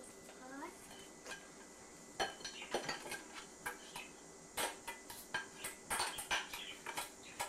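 A small child plays with a cooking pot and metal utensils, making light clinks, taps and scraping stirs that turn busier and more rapid partway through. There are faint voices in the background.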